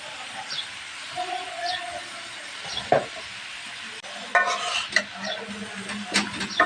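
Green chilies and mixed vegetables fry in a pan with a steady hiss while a spoon stirs and scrapes the pan at close range, with occasional clatter.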